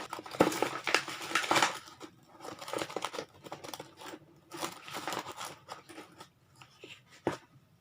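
Ground coffee scooped with a measuring cup and levelled off before going into a Hario V60 dripper: a run of close, dry crunching and scraping strokes in uneven bursts, with short quiet gaps between them.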